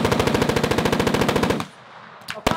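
A 5.56 AR-15 rifle fires a rapid, evenly spaced string of loud, close shots at an outdoor shooting range, stops abruptly, and then one more sharp report follows after a short pause.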